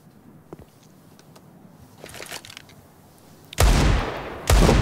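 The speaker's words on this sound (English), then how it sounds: "Pre-fire, why not, from Device, just hoping to get someone in" Gunfire in a CS:GO professional match on the Nuke map: faint scattered shots and footsteps build into two loud bursts of rifle pre-fire near the end.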